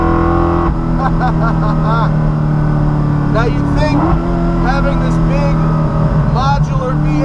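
Coyote V8 engine swapped into the back of a 425 WHP Porsche Cayman, a loud near engine drone rising as the car accelerates, with chirping gear changes and someone talking over it.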